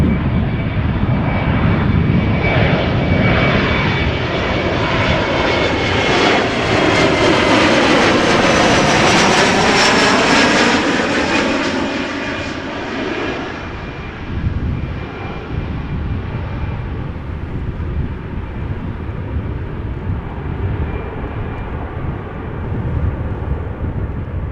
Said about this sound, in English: Now this is KLM flight 1740 arriving from Luxembourg